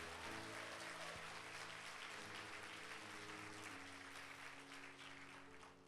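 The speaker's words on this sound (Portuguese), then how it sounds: "dê um aplauso ao Senhor Jesus" A church congregation applauds during a Sunday service, a broad wash of clapping that fills the room steadily and fades slightly at the end, with sustained organ or keyboard tones underneath.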